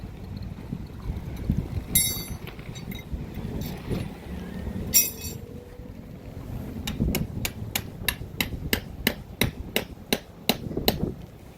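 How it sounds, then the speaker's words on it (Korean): Hammer blows ring out at a campsite, a series of sharp metallic strikes in a steady rhythm near the end, over outdoor background noise with a few earlier knocks. "오랜만에 또 망치질 해야 되네."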